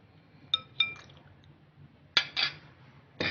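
Light metal clinks and taps against a bowl as garlic ginger paste and lemon juice are stirred together, coming in a few short, quiet clusters with silence between them.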